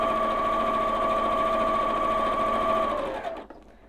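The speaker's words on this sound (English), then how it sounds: "Start stitching away." A sewing machine runs steadily, stitching a quarter-inch seam along quilt top rows, its even mechanical whir holding for about three seconds before stopping abruptly.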